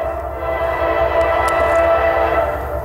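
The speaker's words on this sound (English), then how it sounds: "I think that's a military train empty." An empty military freight train of 90-foot cars rumbles steadily past at close range at Painesville Depot, with a continuous low roar and faint metallic clatter from the wheels and cars.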